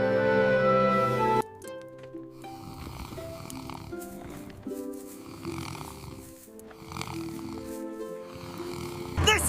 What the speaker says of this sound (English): They're all snoring.